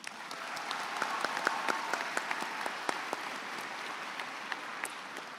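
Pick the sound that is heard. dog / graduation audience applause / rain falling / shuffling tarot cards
graduation audience applause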